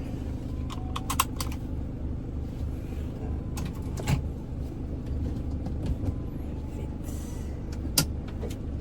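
A caravan's engine runs with a low, steady rumble as it pulls away onto a road between Luang Prabang and Vang Vieng in Laos, with scattered clicks and knocks from inside the cabin over the drone.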